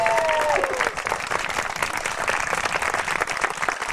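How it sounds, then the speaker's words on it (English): Vigorous, steady clapping from a standing audience honoring a retiring school leader, Julia Hudson, in 2004, a dense roar of many hands that holds strong throughout, with a brief tone at the start. "Please give her a round of applause"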